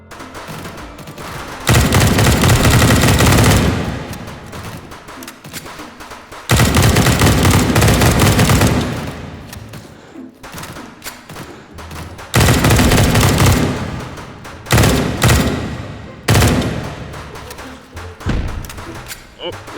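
Repeated loud bursts of gunfire in the VR shooter H3VR, with dense volleys of rapid shots separated by short quieter gaps, some heavy thumping reports among them.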